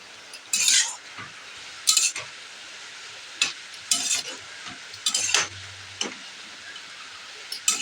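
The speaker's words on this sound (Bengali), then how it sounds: "দেখো আমার শাক ভাজা প্রায় হয়ে এসছে।" Leafy greens being fried in a pan and stirred, with repeated bright scraping strokes of a utensil every second or so over a faint continuous sizzle, close and moderately loud, no talking.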